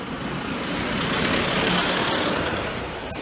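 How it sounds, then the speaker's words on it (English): A quiet city bus drives past on a Seoul street, giving off a soft, steady broadband rumble of road and motor noise for several seconds. No voices are heard. "Even the buses are silent."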